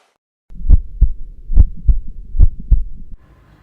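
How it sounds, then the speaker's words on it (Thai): A strong, close heartbeat thumps in a steady lub-dub rhythm, about six heavy beats with soft double pulses, loud and alone with no voices, then fading into a faint hum at the end. "นี่ลูกแม่ได้ยินเสียงหัวใจเต้น"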